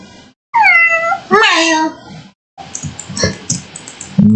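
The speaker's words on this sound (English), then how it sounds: "Meowing near the microphone." A cat meows loudly near the microphone, giving two drawn-out rising-and-falling cries, then softer mewing mixed with a person talking.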